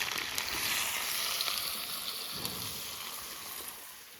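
Steady sizzling of meat and potatoes frying in a pan, a continuous crackling hiss with small pops, no voices.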